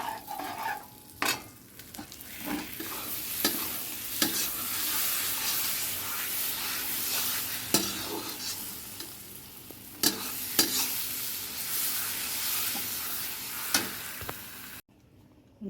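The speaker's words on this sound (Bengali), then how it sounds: "মাছের মশলাটা হচ্ছে আর ওইদিকে দেখো চাটনিটাও হচ্ছে" Fish masala spices fry and are stirred in a pan, a steady close sizzle broken by repeated scraping strokes of the spoon against the pan, with a faint watery hiss beneath.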